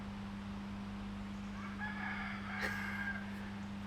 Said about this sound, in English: I don't know if you can hear the chickens that are crowing over there